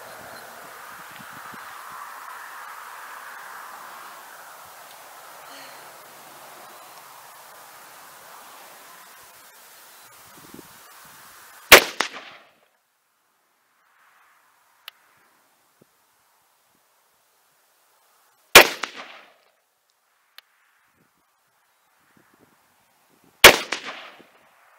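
Three sharp, loud shots from a 20-inch 5.56 carbine firing 55-grain rounds loaded with CFE 223 powder, spaced several seconds apart, each ringing briefly, after a stretch of faint outdoor rustling.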